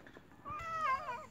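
A neighbour's fluffy, hefty cat gives one short, rising-and-falling meow, fairly quiet against faint background noise with no talk.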